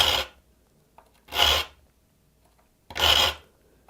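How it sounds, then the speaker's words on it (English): Metal file rasping across the teeth of a dovetail saw: three short, close strokes separated by near silence. "sharpening a dovetail saw is just like sharpening any other saw"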